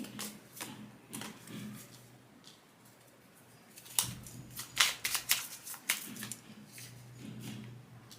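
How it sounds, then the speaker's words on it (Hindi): Tarot cards shuffled and drawn in a quiet room, giving a few soft riffles and a burst of crisp snapping card sounds in the middle, close and fairly faint with no talking. "देखते हैं और कुछ कार्ड्स निकालते हैं आपके बारे में।"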